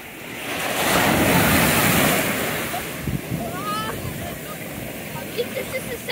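Ocean waves wash ashore at a beach on a clear day. A broad rushing surge swells and then recedes, close and loud, with wind buffeting the microphone and a faint voice heard near the end.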